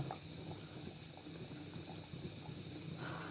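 Buffalo meat curry simmers in a pot as its water cooks down, giving a steady close bubbling and gurgling with small pops throughout, no voices.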